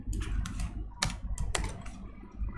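Keys clatter on a computer keyboard as someone types code, a run of close, crisp clicks with a few sharper keystrokes over a low steady hum of room noise.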